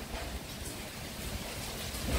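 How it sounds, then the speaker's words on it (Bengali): Strong stormy wind blows with rain in a loud, continuous broadband rush that buffets the microphone and swells slightly toward the end, with no voices. "বৃষ্টির সঙ্গে বাতাস"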